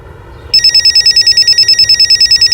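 A telephone starts ringing about half a second in after a quiet room hum, then repeats a loud, rapid electronic trill in even pulses until the end.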